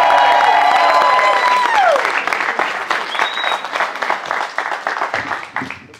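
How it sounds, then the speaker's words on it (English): Audience applause and cheering for a comedian at a comedy show in Atlanta, loud and sustained with a dense crowd texture that begins under a fading tone and gradually thins toward the end. "Clap it up."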